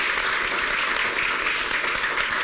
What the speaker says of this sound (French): Je vous prie d'applaudir vraiment très fort notre dernière intervenante